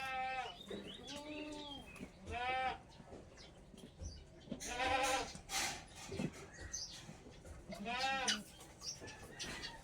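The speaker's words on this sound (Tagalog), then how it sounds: "Yan po ang kambing namin guys." A goat at a rural Philippine farm bleats in several loud, wavering calls spaced a few seconds apart, with faint voices and background noise between them.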